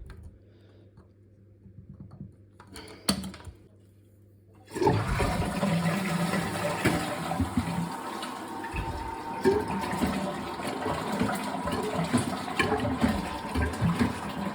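An old toilet cistern is flushed by pressing its button: a few quiet clicks and handling noises, then a sudden loud rush of water that keeps pouring and gurgling as the cistern drains and refills, close by.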